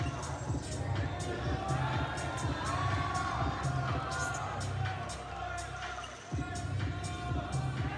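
Crowd cheering and whooping in an arena after a men's NCAA gymnast's duck dismount in a Navy vs Army meet, a steady loud roar of voices with shouts throughout, briefly dipping near the end.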